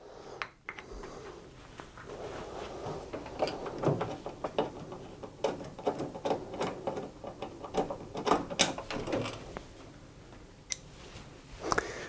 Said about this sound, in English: remove these Torx head screws with a Torx head screwdriver to separate the two halves